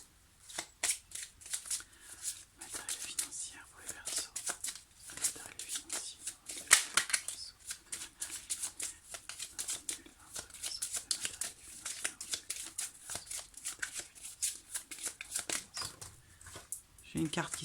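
Tarot cards shuffled by hand in a steady run of quick riffling flicks, close and continuous, with one sharper snap as a card springs loose partway through.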